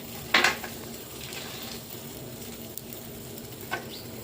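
Sliced shallots frying in a pot for Thai noodle soup, with a soft steady sizzle broken by a sharp clatter of utensils near the start and another faint knock later.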